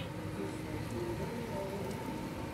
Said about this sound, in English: Look at that crazy rain